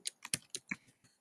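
A computer keyboard being typed on, six or seven quick, fairly quiet key clicks in an uneven rhythm over about a second, close and alone with no talking.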